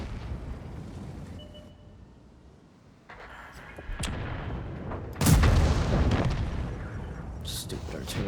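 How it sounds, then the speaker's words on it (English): Artillery shells land in a World of Tanks match, a couple of loud booming blasts with a big near impact around the middle, over a rumbling battlefield bed while a voice talks. "Stupid artillery."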